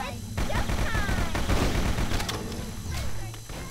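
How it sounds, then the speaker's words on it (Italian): Rapid automatic fire from the Hornet gun in the Microvolts shooter game, a dense, continuous burst of shots running nearly the whole time with other game effects layered in. "La Hornet la adoro. Adoro quanto spara colpi."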